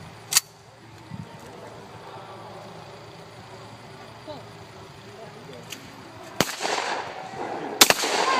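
Shotgun blasts at a skeet shooting range, a few sharp reports spaced apart, one near the start and two loud ones near the end, over quiet outdoor background with voices heard.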